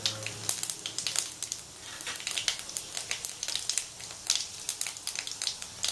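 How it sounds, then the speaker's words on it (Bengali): Panch phoron of fennel, fenugreek and black cumin seeds sputters in hot oil for a Bengali rui fish curry, with a dense run of sharp, close crackles and pops and no talk. "ফুটে গেছে পাঁচ ফোড়নটা"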